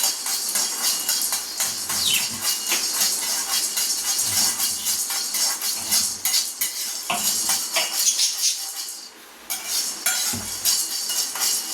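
Sathu maavu powder is stirred and lightly roasted in a pan, with a spoon scraping and clinking against the metal in steady, continuous strokes. The sound is close and fairly loud, with brief pauses and no speech.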